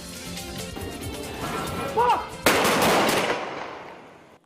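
A volley of 21-gun salute rifle shots cracks out sharply at South Memorial Park in Baguio City, echoing outdoors and decaying into a fading rumble, with crowd noise beforehand.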